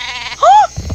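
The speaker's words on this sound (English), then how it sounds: "Why do you have a sheep?" A cartoonish sheep bleats once in the video game Worms Reloaded, a loud wavering cry rising out of low game noise, with a voice starting up right after.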